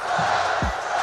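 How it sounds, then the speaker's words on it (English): A basketball arena crowd at the 1986 NBA Slam Dunk Contest chants and roars, a loud, dense wall of voices in a brief burst. "Let's see what happens as the crowd chants Spud."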